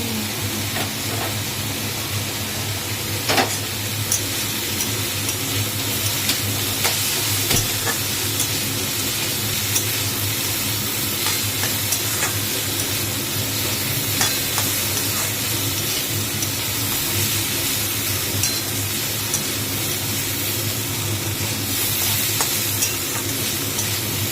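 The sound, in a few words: frying in a hot wok with oil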